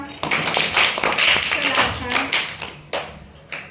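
Children in a classroom clap for a classmate's correct answer in a number-card maths game, with a short burst of sharp, uneven claps close by, mixed with chatter and voices.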